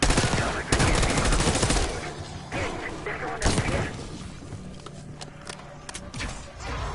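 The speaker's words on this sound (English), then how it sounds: "Hearing gunfire." Bursts of rapid gunfire crackle loudly in the first seconds, then a second volley, followed by quieter mechanical clanks and scattered thumps, in the video game Call of Duty: Black Ops 6 campaign.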